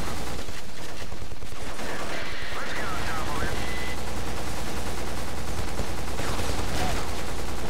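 Sustained machine gun fire in the shooter game Black, dense and continuous with rattling bursts over loud battlefield noise throughout.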